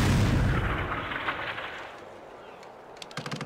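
A loud burst of gunfire in the video game TimeSplitters: Future Perfect at the start fades into a rumbling echo, followed by a few quieter sharp pops near the end.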